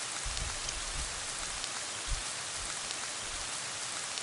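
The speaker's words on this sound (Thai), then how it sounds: "ทำไมฝนตกอีกแล้ว3เดือนก่อน" Steady rain pours in a video game, a dense continuous hiss with a few low thumps, no voices.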